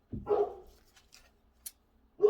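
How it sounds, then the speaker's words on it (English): A dog gives a couple of short, close barks with quiet gaps between them, followed by a faint whimper. "Sorry, that's my dog."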